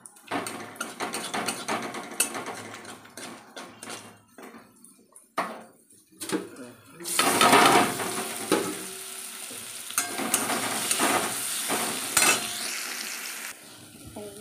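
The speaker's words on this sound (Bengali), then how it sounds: "গোটা গরম মশলা দিয়েছি, তেল গরম হয়ে গেছে, পেঁয়াজটা দিয়ে দেবো।" Onion drops into hot oil with whole spices and bursts into a loud, steady sizzle after a stretch of quieter clattering and stirring in the pan.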